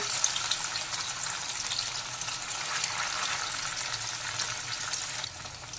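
Paneer cubes frying in refined oil in a kadai, giving a continuous dense crackling sizzle at close range, fairly even throughout and easing slightly at the very end, with no voices.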